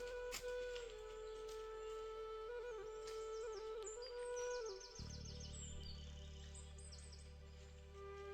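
Wild birds call along the Narmada Parikrama trail between Mohadi and Amarkantak, with repeated bright chirps and whistled trills of varying distance over a steady outdoor hum and low rumble, with no voices.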